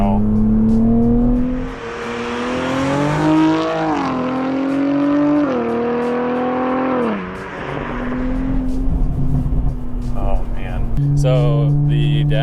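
A tuned 480 whp 2024 Nissan Z Nismo engine rises and falls through several rev sweeps, a droning, buzzy tone climbing and dropping in waves from inside the car, with people talking over it.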